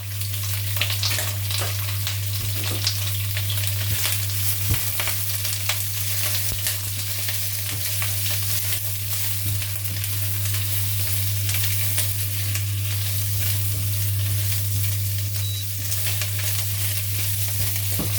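Ingredients fry in cooking oil on a stove for an ampalaya and lechon baboy dish, a continuous even sizzle under a low steady hum, with no talking throughout.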